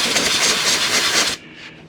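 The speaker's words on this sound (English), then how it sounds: "A little bit of heat, gonna shoot it with some compressed air." Compressed air blasts onto a heated section of a 1940s Waterman's Stalwart fountain pen, a loud, close, steady hiss lasting over a second before cutting off abruptly into a faint tail.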